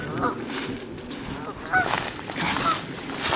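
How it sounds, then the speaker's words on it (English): Geese honk a few times at a golf course pond, the calls fairly distant and partly masked by steady outdoor background noise. "Get those geese. Go on. Go get them."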